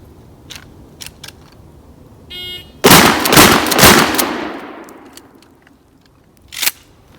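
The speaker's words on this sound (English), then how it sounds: "put 3 rounds on target with each shotgun" Pump-action shotguns, a Remington 870P and a Mossberg 590A1, on a timed drill: a short timer beep, then three loud, close blasts in quick succession, each with a ringing decay.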